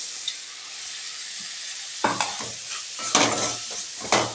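Pepper tomato greens sautéing in a pan, with a steady broadband sizzle throughout and, in the second half, several scraping stirs of a utensil against the pan, no voices.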